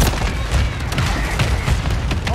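A grenade blast in a first-person shooter game, a dense, loud rumble of booming, gunfire-like bursts filling the whole short moment without a clear gap.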